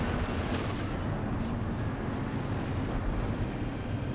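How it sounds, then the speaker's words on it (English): Artillery shells pound continuously in a Company of Heroes 2 battle, a dense, loud wall of rumbling blasts and gunfire with no distinct gaps. "More artillery there."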